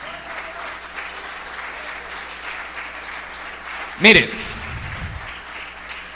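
A church congregation applauding: a short, loud burst of clapping rises partway through and fades, with a preacher's voice and crowd murmur running underneath.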